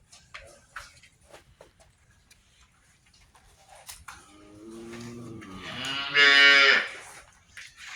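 A good-quality milking cow on a dairy farm lets out a long, loud, close moo near the end, after a stretch of faint ticking and quiet background sounds.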